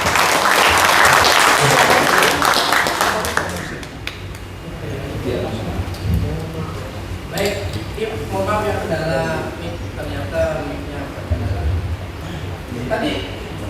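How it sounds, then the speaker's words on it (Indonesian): An indoor audience at a labor workshop claps loudly for about four seconds, then the applause stops and someone speaks in Indonesian into a microphone while the room murmurs faintly. "Aplaus buat kita semuanya."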